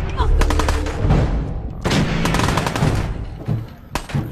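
Gunfire in Fallout 4 played in VR, loud close rapid shots in bursts with brief pauses between, and a voice speaking over part of it.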